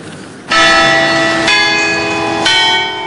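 Church bells ring loudly and close, with three distinct strikes about a second apart, each leaving a long, rich metallic hum that overlaps the next.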